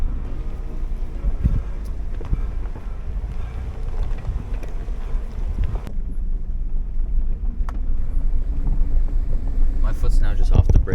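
A Jeep Liberty creeping down a steep off-road slope in first gear and four-wheel low near a river, a steady low engine rumble with wind buffeting and a few rattles, continuous and fairly loud.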